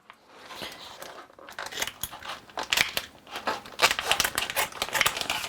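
Scissors snip and crunch through a plastic dough package, a series of sharp crinkling cuts and rustles growing louder after a brief quiet start.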